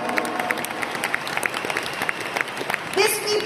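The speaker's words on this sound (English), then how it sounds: "Can we all give our topmost leaders a round of applause today?" Audience applause for the top leaders of Riway International at a leadership training seminar, a steady crowd clapping with some voices mixed in and a louder swell near the end.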